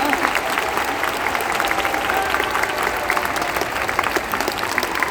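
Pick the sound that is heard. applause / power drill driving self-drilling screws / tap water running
applause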